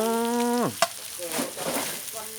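Ingredients for a catfish curry are stirred and fried in a pan, with soft sizzling and scraping, while a brief tonal voice-like sound precedes them.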